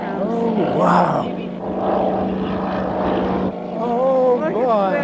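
A Gee Bee R-2 racing airplane flies past, its radial engine and propeller rising into a roaring drone and fading, with excited voices speaking over it.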